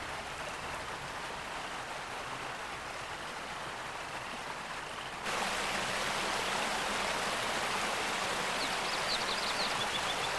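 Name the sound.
turbulent river flowing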